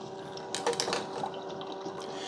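A NutriBullet Brew Choice pod and carafe coffee maker starting to brew, its pump whirring and clicking under a steady hum as water begins moving through the machine.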